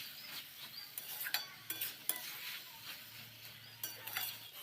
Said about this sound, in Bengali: এখন সর্ষেটাকেও শাকের সাথে খুব ভালো করে এইভাবে নাড়াচাড়া করে মিশিয়ে নিচ্ছি